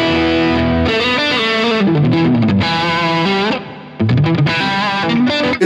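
A Glarry GST electric guitar with three single-coil pickups, played through heavy distortion, rings out chords and sliding riffs at close range, with one brief drop in level before the playing resumes.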